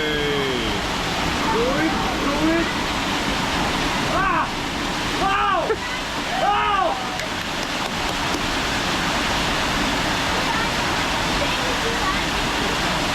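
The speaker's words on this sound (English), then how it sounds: "She actually went under the waterfall." A waterfall in Puerto Rico roars in a steady, dense wash of falling water, close and loud throughout, with voices briefly rising above the rush.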